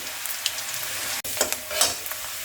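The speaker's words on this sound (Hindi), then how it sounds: "प्याज को हल्के गुलाबी होते तक के भूंज लेंगे।" Steady sizzling of onions frying in a pan for chicken masala, a continuous crackle with occasional louder pops and stirring scrapes, close up.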